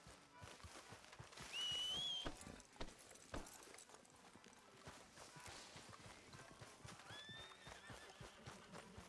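A horse in a video game clip-clops along at a steady walk, with a brief whinny near the start and another fainter one later, under faint background game sounds.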